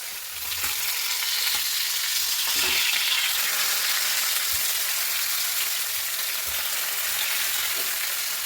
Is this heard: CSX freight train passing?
no